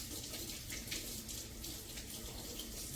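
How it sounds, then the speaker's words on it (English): Water running steadily from a tap into a glass measuring cup while baking, a soft continuous splashing hiss at low volume, with no voices. "I assume you guys don't need to watch the water being poured and measured"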